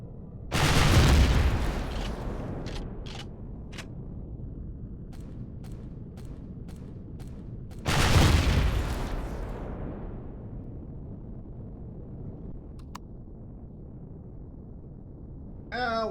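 Gunfire and explosions ring out during an attack on a comm base guarded by sentry turrets in the game Empyrion: two heavy booming blasts with long decaying rumbles, separated by a string of sharp single shots, with no talk.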